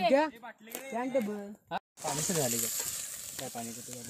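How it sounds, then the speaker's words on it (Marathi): Paneer frying in a pan at an outdoor riverside dam backwater picnic, a bright hissing sizzle that starts abruptly midway and continues under someone talking. "सर्वात पहिले आपल्याला पनीर जे आहे ते फ्राय करून घ्यायचं आहे"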